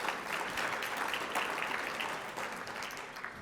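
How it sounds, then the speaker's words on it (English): A luncheon audience at a Latino leaders event applauds Mickey with steady, dense clapping from many hands, moderately distant and fairly soft, sustained evenly throughout. "So a round of applause to Mickey"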